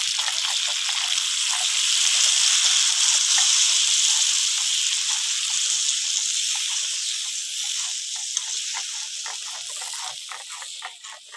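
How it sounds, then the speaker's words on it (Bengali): Water poured into a pan of frying deshi chicken curry cooked on a clay stove, setting off a loud, close, hissing sizzle that holds steady and then slowly fades toward a softer bubbling crackle. "কষিয়ে নিয়েছি, এবার জল দিয়ে দেবো।"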